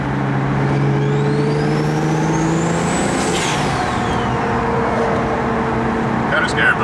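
A built BMW 335i with an N54 engine accelerates in a low gear, the loud engine note rising steadily in pitch over several seconds before easing off, with a steady drone of road and cabin noise throughout.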